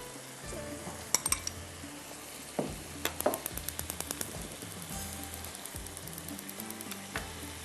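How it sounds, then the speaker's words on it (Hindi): Chicken frying in butter in a pan for pizza sandwiches: a steady close sizzle runs throughout, broken by repeated metallic clinks and scrapes of a utensil stirring against the pan. "इसको फ्राई कर रही हूँ, जब तक ये फ्राई हो रहा है बाकी की चीज़ों को हम रेडी कर लेंगे।"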